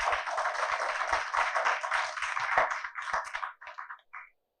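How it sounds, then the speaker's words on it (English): Audience applause for two school debate teams, a burst of clapping that stays steady for about three seconds, then thins into a few scattered claps before stopping. "Let us extend a round of applause to both teams."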